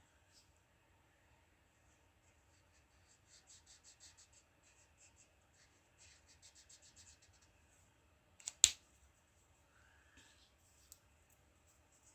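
A chisel-nib marker swatches across paper in short, faint scratchy strokes, grouped in quick bursts with pauses, close and quiet, broken by one sharp click midway.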